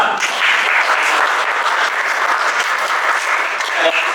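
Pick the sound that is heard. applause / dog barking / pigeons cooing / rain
applause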